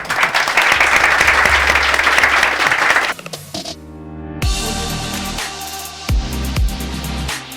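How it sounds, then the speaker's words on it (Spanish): A lecture audience gives a dense, sustained round of applause for the speakers, which stops after about three seconds and gives way to music. "Agradecemos a los expositores con un fuerte aplauso."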